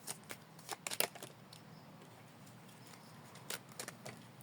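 Tarot cards being handled and shuffled outdoors under a fig tree, with quick crisp flicks and riffles clustered at the start and again near the end and a quieter stretch between them, close and fairly faint.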